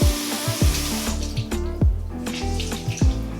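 A bathroom tap runs steadily into the sink while a face is rinsed, with splashing water broken by repeated bursts from hands scooping and slapping it, close and loud, with no talking.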